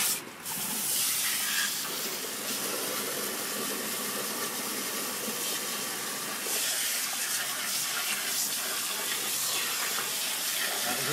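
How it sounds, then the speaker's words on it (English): A high-volume hose runs steadily outdoors, a continuous loud hiss and spray of water with a brief knock at the start, no talking over it. "A little bit of water."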